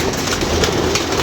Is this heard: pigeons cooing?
yes